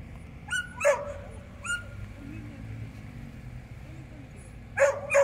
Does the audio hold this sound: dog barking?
yes